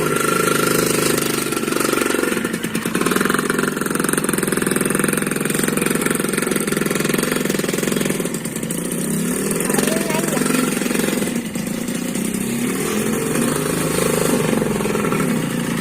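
A Suzuki Satria two-stroke motorcycle rides in first gear, its loud buzzing engine droning steadily up close for the whole stretch while voices talk over it.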